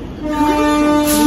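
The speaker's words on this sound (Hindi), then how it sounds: "एंड हमारा हॉर्न भी हो चुका है" A train horn sounds as a train departs Bangalore City station, a loud, steady, sustained blast heard close by and alone.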